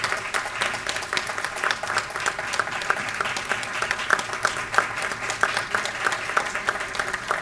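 An audience at an annual day awards ceremony applauds steadily, a dense stream of many hands clapping with crisp individual claps standing out, loud and sustained throughout.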